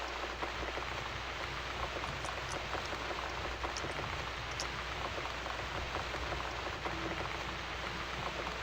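Steady rain falls in the video game The Cat Lady, an even, dense patter with scattered droplet ticks, moderately loud and unbroken, with no talking.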